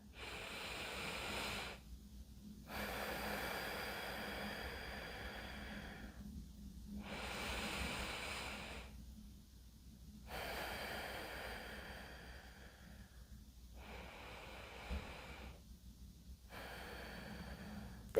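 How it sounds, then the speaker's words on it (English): Slow, steady breathing in and out during meditation, close and quiet, with long soft airy breaths separated by short silent pauses, repeating about five times alone. "You can actually just listen to the breath going in and out."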